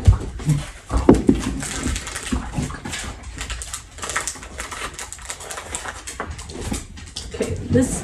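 Dogs playing indoors, with panting, scuffling and occasional small whimpers and thumps in a steady close-up jumble of noise, while a person talks at moments.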